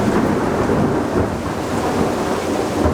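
A deep, sustained rumble of thunder rolls on with a constant rush of heavy rain, loud and unbroken throughout.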